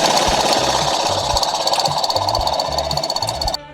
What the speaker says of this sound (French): je vais lever le véhicule